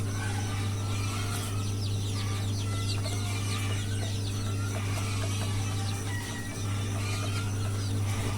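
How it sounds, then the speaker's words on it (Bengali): Month-old native desi chicken chicks peep and chirp continuously in a farm setting, a busy high-pitched chatter over a steady loud mechanical hum. "এই যে বাচ্চা দেখেন মাশাআল্লাহ বাচ্চাগুলো একদম অরিজিনাল দেশি মুরগির বাচ্চা এগুলো"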